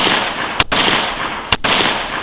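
Two sharp gunshots crack out about a second apart, each striking a hard bulletproof panel, over a steady background hiss.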